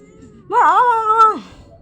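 A single drawn-out cat meow, clear and close, rising then holding steady before trailing off, heard alone against a quiet room.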